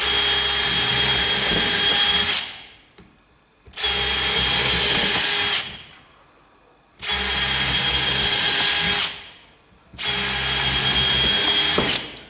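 A power drill bores holes in a Rover SD1 car door in four loud bursts of high whining drilling, each about two seconds long, separated by short pauses, close up and with no speech.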